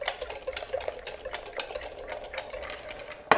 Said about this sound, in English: just whisk that up into a lovely thick batter